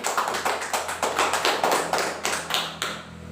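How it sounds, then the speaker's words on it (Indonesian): A small group claps for a woman in a steady rhythmic applause, a dozen or so even, fairly loud beats, with the clapping thinning out and stopping toward the end. "Tepuk tangan dulu untuk Ibu Hari."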